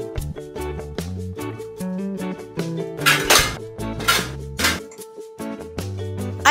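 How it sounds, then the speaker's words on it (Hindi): Metal pots, pans and cutlery clink and clatter steadily while dishes are washed, a dense run of ringing knocks and scrapes close by, with a few louder splashy bursts in the middle. "हम यहाँ बर्तन धो रहे हैं बैठ के।"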